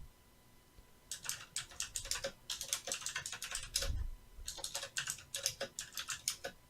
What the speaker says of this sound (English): I'm doing some typing ASMR.